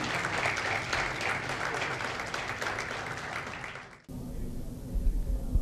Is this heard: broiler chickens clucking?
no